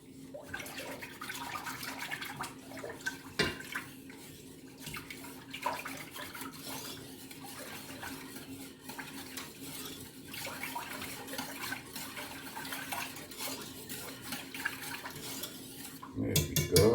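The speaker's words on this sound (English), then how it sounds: "I'm going to use a whisk and just stir, whisk," Tea being whisked in a pot, a rapid scraping and clinking of the whisk against the metal, continuous and fairly close, with a louder clatter near the end.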